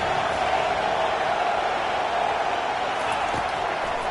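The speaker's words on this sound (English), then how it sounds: "Decibels rising as the crowd gets behind this defense on 3rd down." Football stadium crowd at a UCLA versus UNC college game during a third-down defensive stand, a dense, steady roar that holds loud and unbroken across the whole moment.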